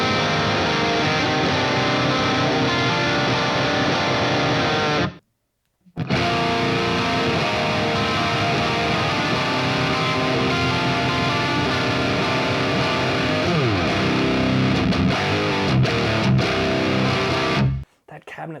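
A distorted electric guitar plays through a Quad Cortex modelling a British 4x12 cabinet with Vintage 30 speakers, loud, thick sustained chords that cut out briefly around five seconds, then continue until a second drop near the end.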